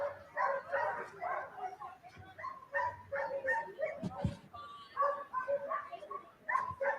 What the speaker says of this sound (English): big beagles.